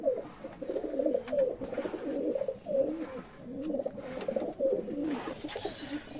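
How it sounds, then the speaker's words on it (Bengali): Teri pigeons, breeding pairs kept at a home loft, coo in repeated soft, throaty rolls that overlap one another, with a few faint higher chirps and wing flutters nearby. "দাদার বাড়ির সব টেরি পায়রা ব্রিডিং পেয়ার"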